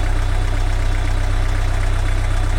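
A vehicle engine idles steadily with a low, even rumble and constant vibration, close and loud, with no talking over it.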